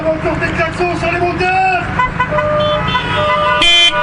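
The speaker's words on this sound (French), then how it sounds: "Coup de klaxon." Several car horns honk over a busy background of engines and murmuring, ending in one loud, sharp blast, at an autocross race event in Antoing.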